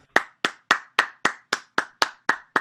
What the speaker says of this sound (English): I've never gotten an applause for an intro